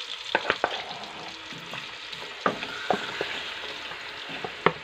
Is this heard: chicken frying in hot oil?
yes